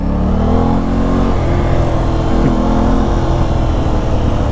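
An Aprilia RS660 motorcycle is revved hard toward its rev limiter, a loud, close engine roar with rising pitch that holds and bounces near the top.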